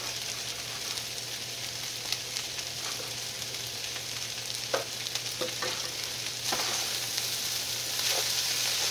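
Steady sizzle of rice frying in a pan, with occasional scraping and clinks of stirring over a low electrical hum; no voices.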